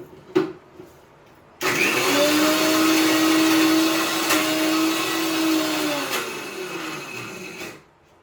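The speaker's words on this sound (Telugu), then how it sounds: "పచ్చడి మిక్సీలో వేసాను" A kitchen mixer grinder whirs loudly and steadily for about six seconds while grinding ridge gourd chutney, its motor tone sagging slightly as it runs, then cuts off, with a couple of soft knocks before it starts.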